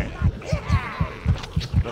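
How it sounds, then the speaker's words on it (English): Heartbeat effect from the video game Overlord, a steady lub-dub pulse of about six low thumps over two seconds, loud and rhythmic, with game ambience faintly above it. "the blessed heartbeat has stopped"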